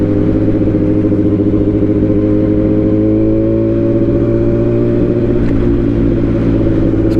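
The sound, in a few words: Yamaha R1 sport motorcycle engine while riding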